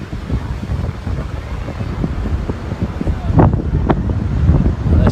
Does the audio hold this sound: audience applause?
no